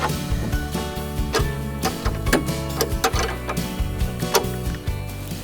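A 13mm spanner tightens bolts onto split washers during handlebar assembly, giving a series of close, irregular metallic ticks and clicks with steady background noise.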